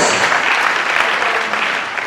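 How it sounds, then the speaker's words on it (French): Sustained audience applause for the finance minister at a formal Congolese event, dense and steady clapping throughout that fades slightly toward the end. "Nous applaudissons pour Monsieur le ministre des Finances."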